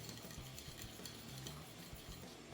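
Olive oil and grated ginger stirred together into a marinade for swordfish steak, a steady wet swishing and scraping with faint clinks of a utensil against the bowl, continuous and close.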